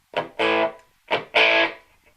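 Distorted electric guitar through a PRS SE 50 amp with boosted lead channel saturation, two short phrases each made of a quick stab followed by a held chord, loud and close with silence between.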